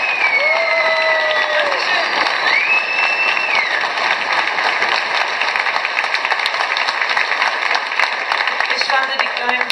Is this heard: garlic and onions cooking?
no